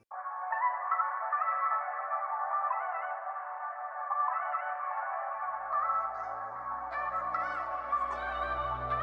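Drill beat intro with a bandpass-filtered, reverb-drenched tonal melody sounding thin and distant, joined partway through by deep bass and percussion.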